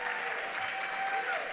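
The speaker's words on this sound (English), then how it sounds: "Let's just give her another round of applause." Brief burst of steady audience applause at a Western Center on Law & Poverty garden party, a dense even patter of many hands sustained at moderate level throughout, with no voices standing out.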